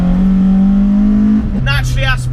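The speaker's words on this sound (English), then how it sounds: "this is running the A111 Toyota Corolla engine and gearbox" Toyota Starlet SR running a swapped naturally aspirated A111 Toyota Corolla engine (4AGE, 170 bhp) with a 5-speed gearbox pulls hard with a steady, loud engine drone, then the pitch drops as if shifting gear, with someone talking over it.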